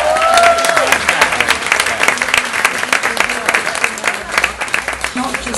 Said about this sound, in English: Round of applause, by the way.